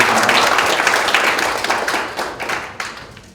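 A crowd at a Korean policy forum gives loud, dense applause nearby, with individual claps standing out as it tapers off over a few seconds.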